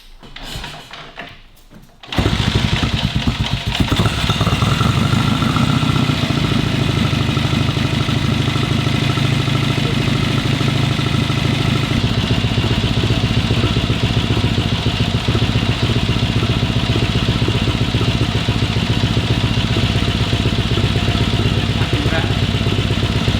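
A 1945 Harley-Davidson WL kicks into life after a few quiet seconds and keeps running on full choke, a loud, steady, close engine rumble that holds for about twenty seconds, with occasional speech over it.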